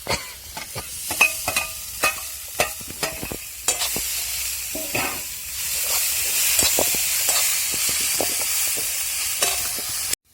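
Spice masala is stir-fried in a pan, giving a steady hiss and sizzle. Sharp scraping taps of a spatula repeat at the start, then give way to a smoother, louder sizzle with no talking.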